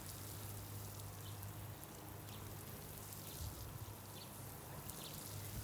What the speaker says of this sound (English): put a light spray on there.